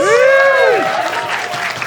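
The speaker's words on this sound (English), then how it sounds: "Clap it up for coming out, guys" A comedy club crowd claps, with a loud cheering voice rising and falling at the start before the applause carries on as a short, dense patter.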